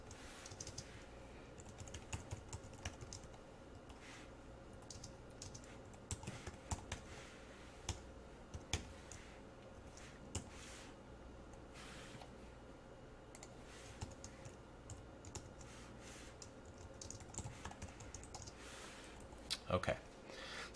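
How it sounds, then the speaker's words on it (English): Computer keyboard being typed on while entering JavaScript loop code, with soft irregular clicking bursts running throughout at a low, close level and no talk over it. "Now, as I'm typing this, try to figure out what's going on here"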